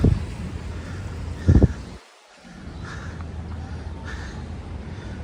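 Crows caw twice, loud and close, then more distant caws follow over a steady outdoor wind and rustle.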